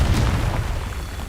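A Confringo fire spell blast in Hogwarts Legacy, a loud booming explosion that hits at once and then rumbles and fades over about a second.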